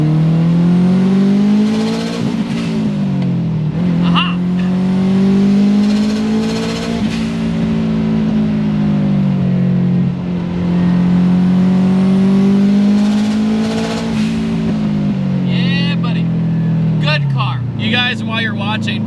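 A 450 hp Subaru all-wheel-drive car accelerates hard. Its engine note climbs in repeated sweeps as it shifts up through the gears, loud and close, with a brief crackle near the end.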